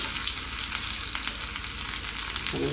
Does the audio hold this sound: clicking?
no